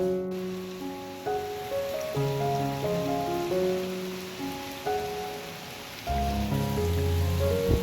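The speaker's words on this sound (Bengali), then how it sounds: "দেখুন কীরকম বৃষ্টি হচ্ছে" Steady, heavy rain hisses without pause, with sustained tonal notes layered over the downpour.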